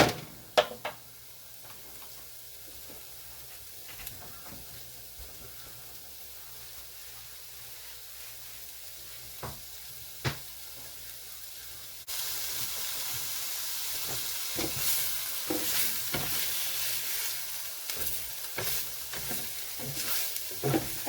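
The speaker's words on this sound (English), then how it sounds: "So we're just going to cook up our sausage now." Sausage sizzles quietly in a pan with onion, a soft, steady crackle broken by occasional sharp ticks and stirring scrapes. The frying grows louder and more vigorous partway through.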